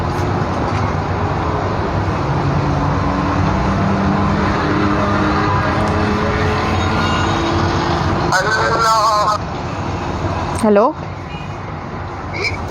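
A motorbike rides through busy road traffic, with dense engine and road noise steady throughout; a voice answers briefly and a horn-like tone sweeps past near the end.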